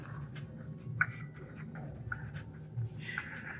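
Pen scratching across paper during a Class 8 maths lesson on subtraction properties, a faint steady scribble with a few sharper strokes over a low room hum.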